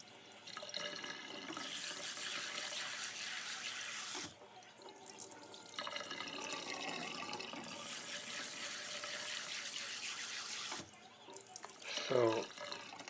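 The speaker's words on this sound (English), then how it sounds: "And I'm washing my rice." Running tap water pours steadily over rice being washed in a sink for Chinese dinner, in two long bursts broken by short pauses, with brief clinks and a faint voice toward the end.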